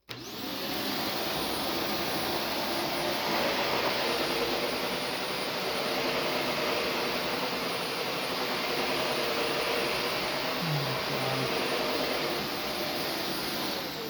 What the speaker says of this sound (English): do I love the sound of a nice vacuum